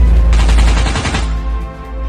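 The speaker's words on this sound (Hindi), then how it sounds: "और फिर बाबा रेड क्रिमिनल और बनी बंडल के ऊपर गोलियों की बरसात कर देते हैं।" Gunfire in the video game Free Fire sounds as a loud, rapid burst of shots about a second long, then a lingering low rumble, with no speech.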